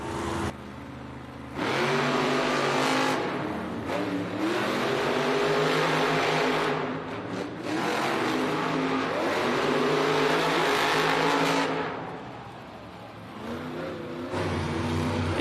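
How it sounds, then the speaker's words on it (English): Two monster trucks, Toro Loco and Terminal Velocity, roar off the line together in a final-round arena race, their engines loud and sustained, revving hard with brief dips as they shift. "Both trucks pedal to the metal."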